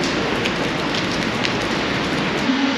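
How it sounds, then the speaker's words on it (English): Rain falls steadily in Innsbruck, a dense, even hiss with a few scattered drop pats, close and constant with no talk. "stay dry because it's still raining"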